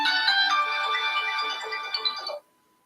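A telephone ringtone plays loudly and steadily as an outgoing call rings, a bright tonal ringing pattern that cuts off abruptly near the end, leaving near silence.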